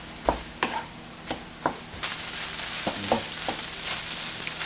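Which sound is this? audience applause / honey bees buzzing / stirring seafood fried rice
stirring seafood fried rice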